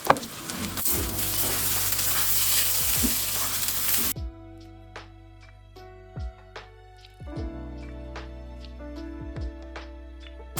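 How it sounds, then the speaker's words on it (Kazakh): Rice fries in a pan while being stirred, a hissing sizzle with scraping strokes for the first few seconds before it drops away, leaving quieter, sparse clicks over a tonal hum. "Осылай араластырып отырып қуырып аламыз"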